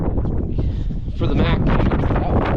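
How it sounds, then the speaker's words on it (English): Strong wind buffeting an outdoor microphone up high beside a Mack R Model truck, a steady rushing roar throughout with someone talking over it. "the wind makes it cold up here, and it's very windy up here"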